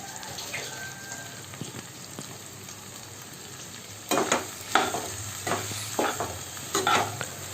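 Cut okra (ladies finger) sautéing in hot oil in a pan for a Tamil vendakkai poriyal, with a steady sizzle and, after a few seconds, a run of sharp scraping stirs and spatters up close, no talk.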